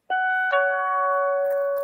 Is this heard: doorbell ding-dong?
yes